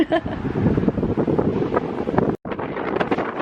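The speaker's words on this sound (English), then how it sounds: "actually so windy." Strong wind in New York City buffets the microphone in a constant loud roar with gusty rumbling, briefly cutting out for a moment before surging back.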